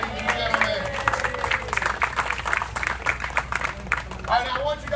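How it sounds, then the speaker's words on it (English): A crowd applauds at a live alligator show, steady clapping filling the space at close-to-moderate distance, with scattered cheers and voices mixed in throughout. "How about a big round of applause, ladies and gentlemen?"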